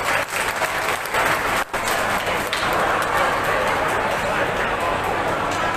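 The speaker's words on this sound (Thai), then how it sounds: "เสียงปรบมือด้วยครับ" Audience applause at a coffee gathering event in Buriram, Thailand, dense sustained clapping from a crowd that stays loud throughout, with a brief dip partway and faint babble underneath.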